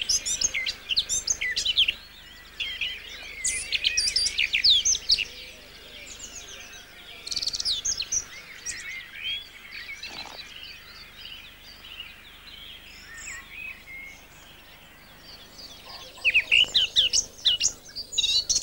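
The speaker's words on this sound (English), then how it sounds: "A male blackcap carefully chooses song posts in his territory, and from these he sings loud and clear." A male blackcap sings loud, clear warbling phrases in bursts separated by short pauses, set against a faint outdoor background.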